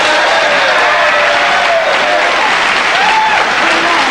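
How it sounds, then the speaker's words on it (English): Studio audience applause on a late-night television comedy talk show, a loud sustained wash of clapping from the crowd, with faint voices underneath. "Was that applause from the heart or from the sign?"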